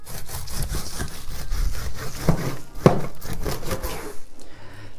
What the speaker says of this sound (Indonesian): Ini saya pakai gergaji kawan, gergaji kayu.